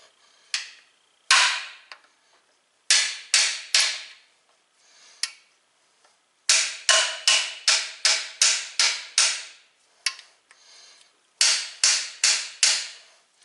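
Sharp metallic hammer strikes ring out in quick bursts, clusters of rapid blows separated by short pauses, loud and close, while working on a 2001 Ford Mustang's rear main seal.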